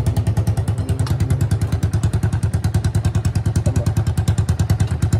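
A Honda Wave motorcycle engine runs through an open, modified silencer with a small inner pipe, giving a steady, loud, close-up thumping exhaust pulse at a fast even rhythm throughout.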